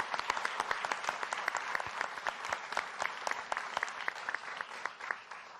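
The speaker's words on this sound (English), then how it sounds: "Let's have a round of applause for them." An audience at a Kentucky gubernatorial debate gives a round of applause, a steady crackle of many hands with distinct individual claps popping through, moderately loud and continuous across the whole stretch.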